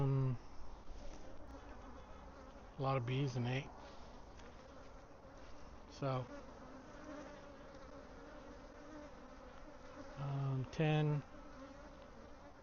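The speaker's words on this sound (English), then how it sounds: "A lot of bees in 8." Honeybees buzzing steadily around an open beehive during a swarm check, a soft continuous drone with louder bursts as individual bees fly close past; a voice speaks briefly.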